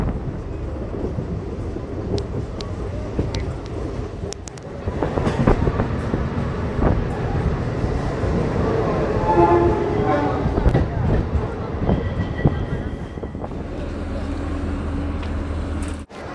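A passenger train pulls into Bardhaman Junction with a loud, steady rumble, rhythmic wheel clatter and brief horn-like tones, while faint voices murmur in the background.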